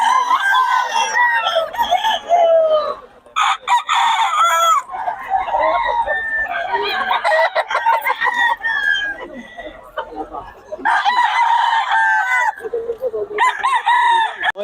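Roosters crow repeatedly and hens cluck at a chicken market in Bocaue, loud and close, with a Henny fowl among the birds and occasional voices talking in the background.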